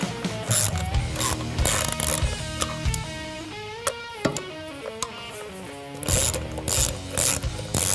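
A socket wrench ratchets on the primary drain plug of a Milwaukee Eight motorcycle engine, making close, crisp bursts of clicking with short pauses between them and no talk.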